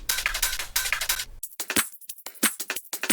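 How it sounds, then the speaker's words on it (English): Percussion part from a music track built on a sampled loop: dense, bright metallic jangling and shimmering hits play first, then give way to sparse, crisp clicks and ticks with gaps of silence between them. "There's some more percussion over here, which sounds like this."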